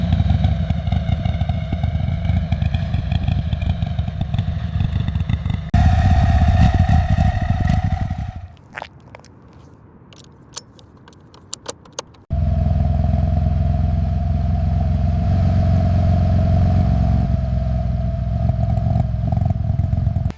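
A Harley-Davidson Nightster motorcycle's V-twin engine roars loudly and close, revving hard, then drops away to near quiet with a few sharp clicks before the engine surges back to full, steady acceleration.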